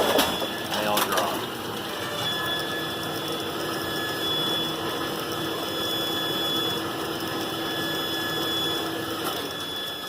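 A Brunswick A2 bowling pinsetter installed in a garage runs with a steady mechanical rattle and grind of gears and chains, with a clatter of pins dropping near the start.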